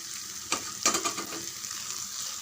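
Tomato thokku being stirred in a hot pan with chopped coriander leaves, a steady sizzle broken by a few close scraping strokes of the spoon around the middle.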